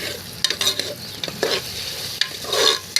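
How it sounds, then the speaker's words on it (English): Chili paste, ginger garlic paste and onions sauté in a pan on a low flame, with a steady sizzle broken by scraping stirs of a spoon against the pan, close and clear with no talk. "I'm going to mix it with the onions gently on low flame. I'm going to mix it and saute it."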